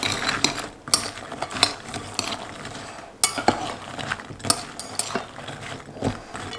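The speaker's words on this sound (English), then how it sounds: "we're gonna gently fold the pecans in with the egg whites" Pecans are folded into egg whites in a bowl, producing repeated wet scraping and clicking strokes from a utensil against the bowl, close and moderately loud, with no voices.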